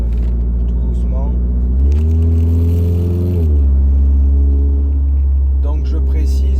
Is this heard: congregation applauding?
no